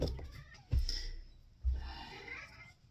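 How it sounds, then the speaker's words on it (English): A house cat in the background talks toward birds with two short meows, fairly faint and set against a quiet room. "Don't mind our cat in the background talking to the birds."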